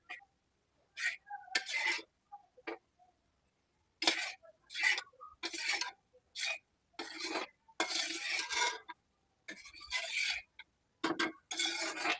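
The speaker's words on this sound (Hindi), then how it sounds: "इसको हम कम से कम 10 से 15 मिनट तक के इसको ऐसे ही भूनेंगे" Chana dal being stirred and roasted in a pan, a spoon scraping and clinking against the metal in repeated bursts with short pauses between, close and fairly loud, with no talking.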